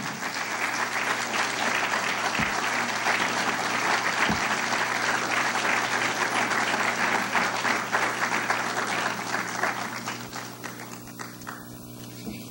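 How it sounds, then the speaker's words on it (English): A lecture-hall audience bursts into steady, full applause for arriving students, the dense clapping holding strong for about ten seconds before thinning slightly, with a couple of low thumps early on. "Please give them a round of applause"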